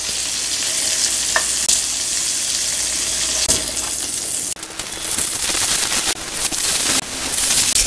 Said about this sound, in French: Et on va griller les autres boulettes.